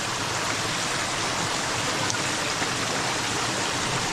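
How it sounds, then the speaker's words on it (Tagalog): A river in a virgin forest in the Philippines rushes and babbles steadily, a dense broadband wash of flowing water filling the whole stretch with no voices. "Pagkaganda ng ilog ng Tagkawente."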